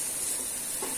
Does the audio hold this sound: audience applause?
no